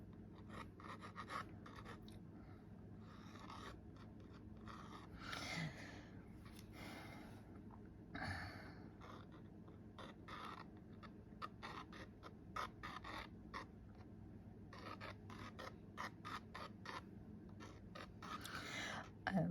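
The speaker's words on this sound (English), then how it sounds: "might sound like it's scratching the paper" A glass pen drawing on paper makes a quiet, soft scratching and rubbing in irregular short strokes, close up, over a steady low background hum.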